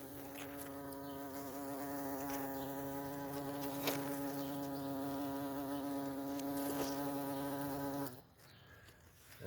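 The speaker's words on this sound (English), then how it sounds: "There's a bee over here." A bee buzzes among flowering creeper plants in a home garden, a steady close drone with a clear pitched hum that holds for several seconds before cutting off abruptly near the end.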